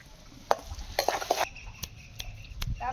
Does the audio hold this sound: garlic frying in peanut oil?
yes